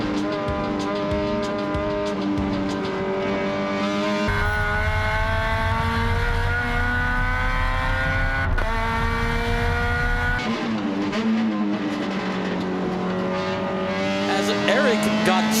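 Race cars, among them a lighter Honda Civic, roar around a dusty track at a Midwest racing festival, engines sustained and loud with shifting pitch as cars pass close by, continuous throughout.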